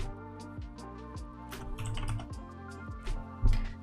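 Typing on a computer keyboard while writing CSS for a Shopify store, steady close keystrokes with a few heavier thumps near the end, no talking.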